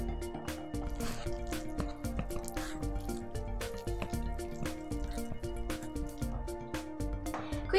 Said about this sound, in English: We need to keep mixing until all the bumps are out.